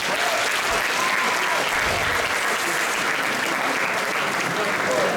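A stand-up comedy audience in Rožna dolina claps steadily and fairly loudly, a dense continuous wash of applause lasting several seconds.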